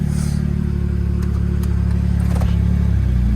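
A car with 209,000 miles, at an impound auction, idling with a steady, throbbing engine hum and light clatter, running close and continuous throughout.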